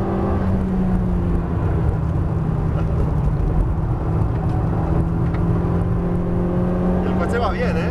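Honda Civic Type R on a race track with a steady, loud engine drone and tonal whine throughout, carrying under in-car conversation.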